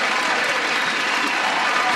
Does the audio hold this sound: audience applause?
yes